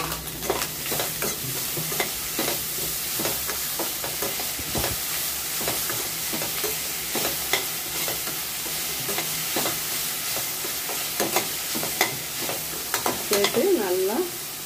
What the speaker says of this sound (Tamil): சிம்மில் வச்சு வதக்கி கொடுங்க.